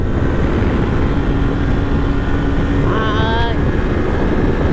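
A 2019 Honda CB500X motorcycle runs at top speed in sixth gear, its steady engine drone buried under loud, constant wind roar, with a brief rising whine toward the end.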